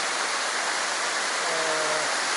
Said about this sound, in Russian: нашли мы этот водопад.